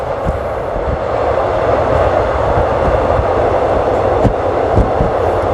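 Riding a train from Krung Thep Aphiwat Central Terminal toward Don Mueang in the morning: a loud, steady cabin rumble with periodic wheel thumps over rail joints.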